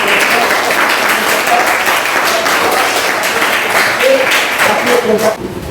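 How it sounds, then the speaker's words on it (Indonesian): A classroom of students applauds a presenting group, a dense, loud burst of many hands clapping that runs steadily for several seconds before tapering off at the end, with faint voices mixed in. "Dan mari kita tepuk tangan untuk kelompok"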